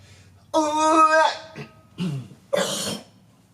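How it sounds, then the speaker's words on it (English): A throat clearing with a voiced, rasping hum followed by short guttural bursts, close and fairly loud, with no other sounds around it. "sorry to clear my throat"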